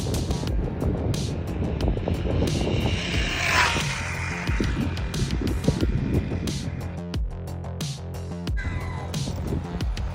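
A Haiboxing 2997A RC car on GRP tires and high-performance LiPo batteries makes a speed run, its motor whine rising as it passes and fading away amid strong wind noise outdoors.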